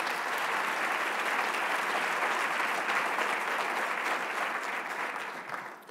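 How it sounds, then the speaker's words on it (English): Steady, dense applause from a campus audience at a State of the Campus address, sustained for several seconds and tapering slightly at the end, with no voices over it. "So please give them a round of applause."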